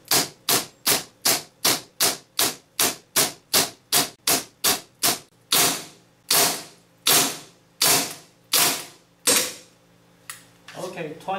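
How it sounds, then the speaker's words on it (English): Roughly twenty sharp gunshots fired in quick succession during a test of a gun fitted with an ESD cylinder valve. Early shots come fast and evenly spaced, then the pace slows into longer, ringing reports, with a brief mechanical clatter at the end. "Okay, 20 rounds fired."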